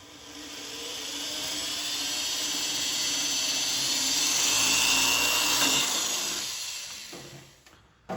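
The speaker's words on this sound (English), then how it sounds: "It never feels good to drill into carbon fiber, but here we are." A steady, high-pitched whirring drill bores into carbon fiber on a Voodoo M5, running continuously for several seconds, rising slightly before winding down near the end.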